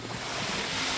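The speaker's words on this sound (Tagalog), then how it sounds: "kita nyo yung tunog ng alon." Ocean waves wash onto a beach at Mamburao, Occidental Mindoro, a broad continuous rushing surf close by and fairly loud, with no voices.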